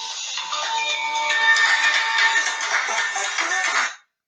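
A mobile phone ringtone plays alone for about four seconds, a bright, melodic tone at moderate loudness that stops abruptly.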